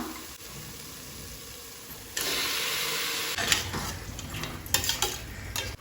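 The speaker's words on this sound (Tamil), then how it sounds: "அடுப்பை கம்மியில் வச்சுட்டு மட்டன் போடலாம்." Mutton with biryani masala frying in a pot over a low flame, soft sizzling that swells partway through, with a spoon scraping and stirring against the metal pan in short clinks and rasps, close and fairly quiet.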